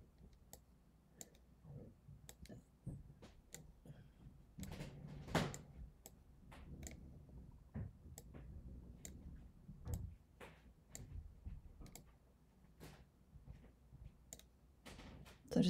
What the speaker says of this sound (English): I'm going to click and drag and kind of follow the curves created with the copy.